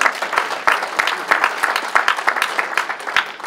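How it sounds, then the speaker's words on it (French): A room full of people clapping steadily for a few seconds, dense scattered handclaps with some murmuring underneath. "On peut l'applaudir pour l'encourager."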